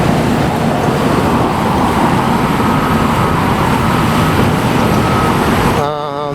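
Steady roar of street traffic on a Los Angeles road beside a construction site, cars and trucks passing in a continuous loud wash with no gaps.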